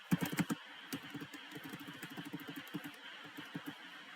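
Rapid keystrokes on a computer keyboard while entering text in Photoshop, a quick burst of clicks followed by steadier, irregular tapping, close and clear with no talking.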